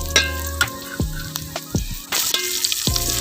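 Onions frying in a pan for sambar, a steady close sizzle broken by several spoon scrapes and taps, with the hiss swelling louder toward the end.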